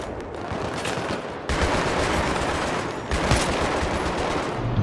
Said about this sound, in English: I just ran in front of a 50 caliber machine gun